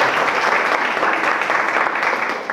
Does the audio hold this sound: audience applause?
yes